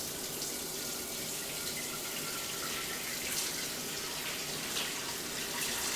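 A tap runs steadily to refill water, a constant even hiss of flowing water with no pauses, close and moderately loud, with no voices.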